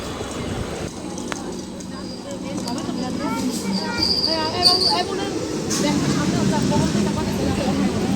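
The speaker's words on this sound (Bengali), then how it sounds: "দাঁড়িয়ে আছি গোপালনগর স্টেশনে ট্রেন ঢুকছে" A train rolls into Gopalnagar station with a steady low rumble and faint metallic squeals, while people talk nearby over the busy platform noise.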